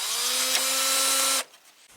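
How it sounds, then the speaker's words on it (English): A power screwdriver whirs steadily as it backs screws out of the back of a laser printer, a close, continuous motor whine that cuts off abruptly near the end, followed by faint handling noise. "Taking some screws off of the back of this thing."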